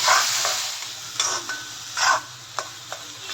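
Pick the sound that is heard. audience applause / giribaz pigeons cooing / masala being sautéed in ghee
masala being sautéed in ghee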